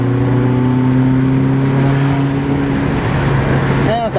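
Ferrari California engine under acceleration, a loud, steady, close-up droning hum with strong low tones that carries through and shifts into a brief rising whine at the end.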